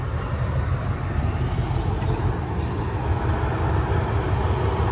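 A loud, continuous rumble of a train rolling past nearby, steady and dense throughout with no pauses.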